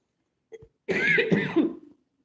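A short throat sound followed by one harsh, raspy cough, close and clear in an otherwise quiet setting.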